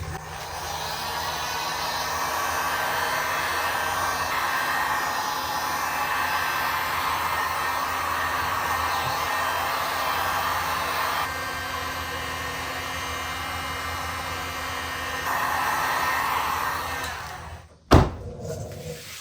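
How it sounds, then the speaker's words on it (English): A heat gun blows steadily on a trunk decal of a 2006-10 Dodge Charger Daytona, a loud continuous hot-air whoosh with a slight pitch shift near the end before it cuts off abruptly, with no talking. "I'm gonna do a little post heat with my heat gun"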